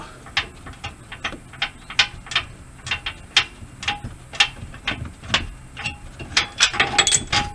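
A ratchet wrench works loose the control arm bolts on a 2014 Ram 1500, giving a close, continuous run of sharp clicking pulls that speed up and crowd together toward the end.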